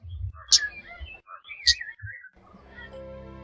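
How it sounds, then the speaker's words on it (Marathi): Thick-billed flowerpecker giving sharp, shrill high calls, two prominent bursts close by with softer chips between, followed by a low hum. "Thick build flower picker, फुलचुका. अंगठ्या एवढा पक्षी चिरक्या आवाजानं लक्षात येतो."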